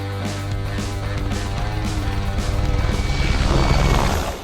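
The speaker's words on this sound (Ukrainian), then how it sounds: "а гелікоптер іде нижче за рівень цих дерев" An Mi-8 helicopter flies low below tree level, its rotor beating in a rapid, rhythmic chop that grows louder and nearer before fading slightly at the end.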